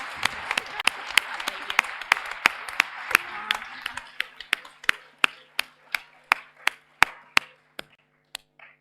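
Audience applause at the close of a SimWars final competition fills the hall at first, then thins to a handful of loud, sharp individual claps that slowly space out and stop.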